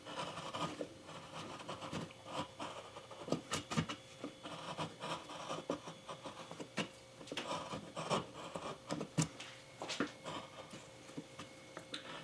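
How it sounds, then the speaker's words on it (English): A medium to deep gouge carves horizontal strokes into a wooden lakeshore cabin landscape relief, giving a run of short, close scraping and rasping cuts in an irregular rhythm, fairly quiet and with no talking. "I'm going to make horizontal strokes with a medium to deep gouge"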